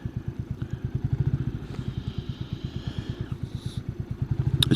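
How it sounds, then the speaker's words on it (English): A motorcycle engine pulses in steady, rapid low beats while riding through traffic, loud and close, with slight swells as the throttle opens near the end and no voices present. "It's bad enough being on a motorcycle with this traffic"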